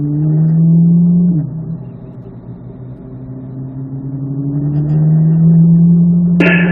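A Corvette Z06 on a racetrack holds a loud, steady engine drone, dipping briefly as it shifts up into third gear and then rising again under acceleration, with a sharp change in tone near the end.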